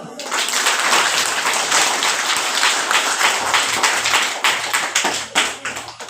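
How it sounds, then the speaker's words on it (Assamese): A crowd of schoolchildren at a school celebration breaks into another round of applause, a dense, loud clatter of many hands that thins into scattered claps toward the end. "আকৌ এবাৰ হাত চাপৰি মাৰক"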